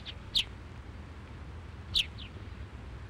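A reef heron on Phi Phi Leh Island gives two short, sharp high calls about a second and a half apart, with a fainter third note, over a low steady background of surf and wind.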